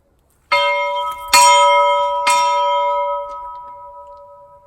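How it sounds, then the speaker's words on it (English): A church bell is struck three times in slow succession. Each ring is loud, close and metallic, and the last tone hangs on and fades gradually into silence. "Maybe you're supposed to ring the bell."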